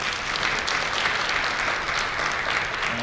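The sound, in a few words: audience applause after a speech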